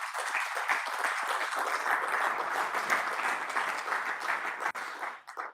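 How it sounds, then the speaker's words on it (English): A conference audience at a sustainable finance event applauds steadily as a dense wash of clapping, holding level for about five seconds before tapering off near the end. "je vous propose de l'applaudir"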